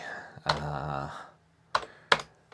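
Keys on a Commodore 16 computer keyboard are pressed one at a time in a slow, hesitant rhythm, a few sharp clicks close up and fairly quiet, with a soft voice near the start.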